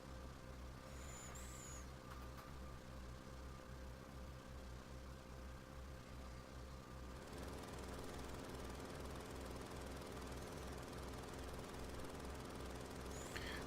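A helicopter flying in Final Fantasy VII, a steady low rotor thump and engine drone that holds constant, then swells slightly louder and fuller partway through as it draws nearer.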